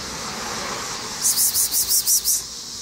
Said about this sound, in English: God, those insects are loud.